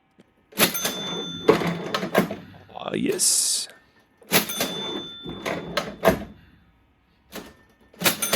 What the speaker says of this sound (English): That's the first cash register drawer, and here's the second cash register drawer.